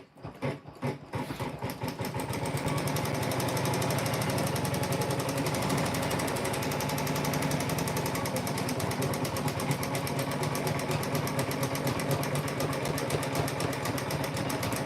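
A sewing machine stitches quilt fabric, starting with a few short bursts and then running into a long, fast, continuous rattling hum close by.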